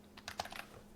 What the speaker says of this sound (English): All you gotta do is type in the word